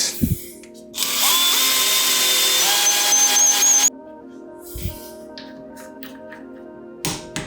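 A power drill whines loudly and steadily for about three seconds while drilling holes in Conjure Rigid and Tough resin, then cuts off, leaving quiet with a few faint knocks.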